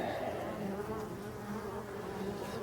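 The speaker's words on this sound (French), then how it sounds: "C'est vraiment des abeilles qui se débrouillent dans tous les sens." Forest honey bees buzz steadily and continuously at close range, a dense overlapping drone of many insects with no pauses and no talking over it.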